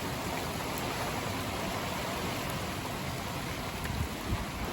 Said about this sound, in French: La pluie est littéralement chassée par les rafales.